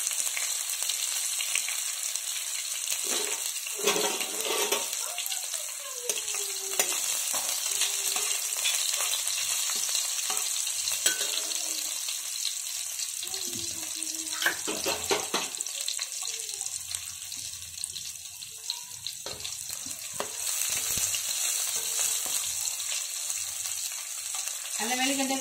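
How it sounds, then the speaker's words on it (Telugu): Cumin and chopped onions frying in oil, a steady hiss of sizzling running throughout, with occasional spatula scrapes and stirring clatters scattered across the long stretch and no speech. "జీలకర్ర వేసింది ఉల్లిపాయ ముక్కలు వేసింది"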